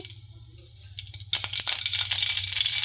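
Mustard seeds splutter in hot oil for tempering in a pan. Sparse pops start at first, then build into a dense, continuous crackle that stays close and loud.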